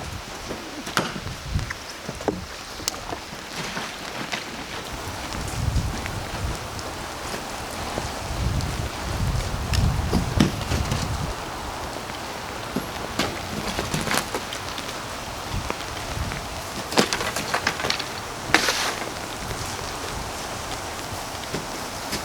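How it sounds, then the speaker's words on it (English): Rain comes down outdoors as a soft, continuous hiss, mixed with gusty wind buffeting the microphone and a few sharp taps and knocks scattered throughout. "Did it really just start raining?"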